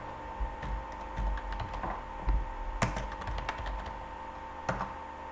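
Sparse, soft keystrokes on a computer keyboard while a command is typed at the command line, isolated clicks over a steady low hum.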